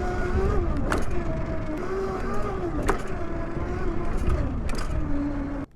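A HappyRun G300SE electric bike accelerates with a rising whine and a mechanical hum, joined by rattles and creaks, loud and near, before cutting off at the end.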